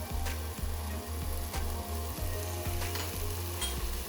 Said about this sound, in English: I'm gonna go ahead and mix all that in there together. Again, this is my onion, garlic, and dried seasonings with olive oil.